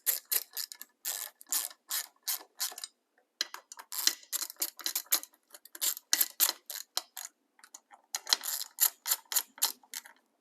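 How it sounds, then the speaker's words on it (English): Driver and 8mm wrench snugging the bolts of a Tesla Model S/X sports yoke completer, giving a steady run of quick, close ratcheting clicks in short bursts with brief pauses, no talking. "I will hold my driver on one side and my 8mm on this side and tighten them nice and snug"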